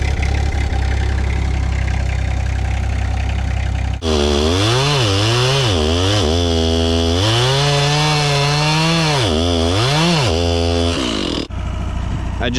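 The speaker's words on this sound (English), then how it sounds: "I just got this chainsaw filled up." A chainsaw engine runs loudly up close, warming up, idling roughly then revving up and down in repeated surges before settling back to a steady idle.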